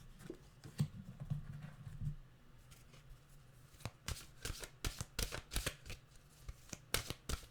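Mantra cards are handled quietly nearby, with a soft riffling shuffle followed by a string of crisp slaps and flicks as cards are drawn and set down, no talking.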